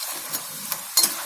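Peanut and garlic pakoda fry in hot oil with a continuous low hiss and a few brief, sharper crackles, the last one the loudest.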